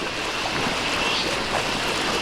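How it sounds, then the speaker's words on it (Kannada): Fast-flowing stream water near Soormane Falls, swollen by rain, rushing as a steady, loud broadband wash close by, with no pauses and no talk. "ಮಳೆ ಬೇರೆ ಅಲ್ವಾ, ನೀರು ರಭಸ ಜಾಸ್ತಿ ಇದೆ"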